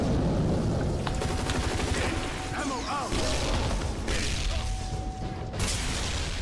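Sustained automatic gunfire rattles on throughout a round of the online shooter M.A.R.S Online, dense rapid shots with metallic mechanical clicks mixed in, loud and steady for several seconds.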